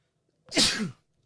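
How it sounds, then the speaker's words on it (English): One quick, forceful sneeze erupts out of silence, close and loud, lasting about half a second. "I'm sorry, I'm about to sneeze."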